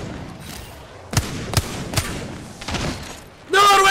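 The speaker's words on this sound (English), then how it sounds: "Can you stop shooting at me" Several sharp gunshots ring out in Apex Legends, spaced irregularly over a few seconds amid a noisy game mix, followed by a loud, bright electronic burst at the end.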